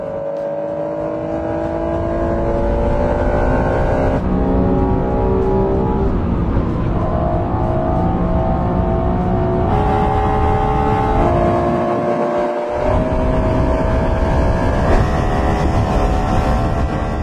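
A Honda NSX sports car drives laps, its engine a loud sustained tone that climbs through the gears, with shift breaks where the pitch drops before rising again.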